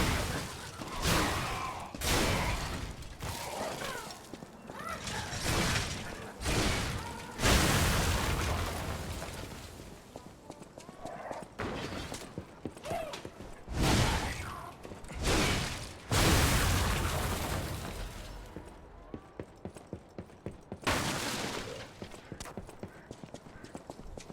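Enemy gunfire in the video game Lies of P comes as repeated loud bursts and booming shots in irregular clusters, with clattering impacts between them and a voice talking at times.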